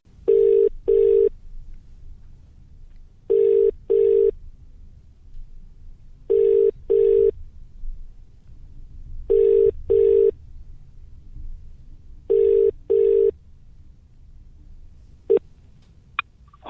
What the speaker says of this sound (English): On the 6th ring, answered the call.